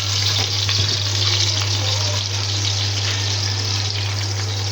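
Chopped onions frying in oil for namkeen gosht, a steady broadband sizzle running the whole time with a few faint stirring knocks, close and fairly loud over a constant low electrical hum.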